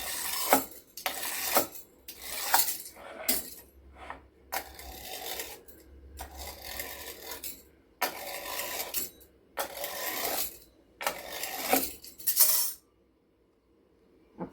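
Rolled poha papad dough is cut on a kitchen surface in a series of close, scraping strokes with short pauses between them.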